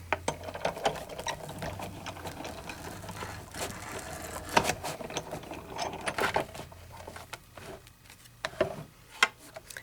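A Big Shot die cutting machine cranks a cutting plate sandwich through its rollers, giving a ticking, ratcheting clatter of gears with uneven sharp clicks, close and moderately quiet.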